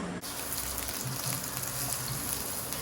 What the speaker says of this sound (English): Now it's time to saute the onions that we cut.